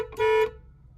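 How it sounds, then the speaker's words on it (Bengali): A trumpet-style horn on a Hyundai i10 Magna car gives one loud, sustained honk of about a third of a second, heard close up from inside the car, followed by quiet cabin hum. "তো এখন শুনে নাও হর্নের আওয়াজটা কিরকম।"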